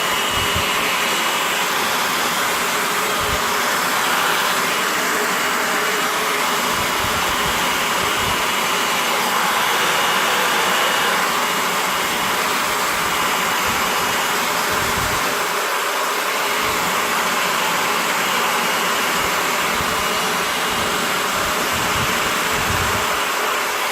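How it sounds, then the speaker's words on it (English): A hair dryer blows steadily on a model sail to dry its glue, a continuous close whooshing roar with slight shifts as the airflow is moved around, with no talk. "I'm going to blow the sail with wind when we use a hairdryer"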